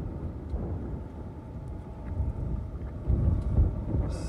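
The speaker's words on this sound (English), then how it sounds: "there's some gusts coming through now. There's one now." Strong tropical storm wind buffets the microphone in rumbling gusts that swell and ease, growing louder toward the end.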